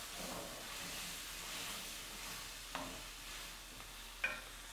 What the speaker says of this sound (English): Mix everything together, let those shrimp cook.